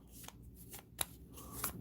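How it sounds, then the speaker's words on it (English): A deck of story cards for a Princess Bride Adventure Book cooperative board game is shuffled up close, with soft riffling and a few sharp card snaps, quiet and unaccompanied by talk. "So these are the story cards that I'm going to shuffle up."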